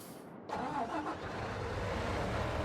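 A combine harvester's engine in Farming Simulator 19 catching suddenly after a quiet moment and settling into a steady mid-pitched running drone that holds on without a break.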